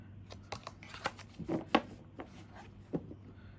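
Quiet, close riffling and flicking of a tarot deck being shuffled, with soft papery slaps in an uneven rhythm.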